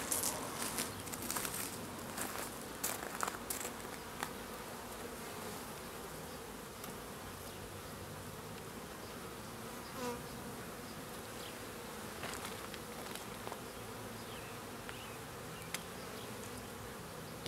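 Honey bees hum in a continuous, fairly quiet drone around an open hive during spring management as frames and hive bodies are inverted, with occasional faint knocks and rustles.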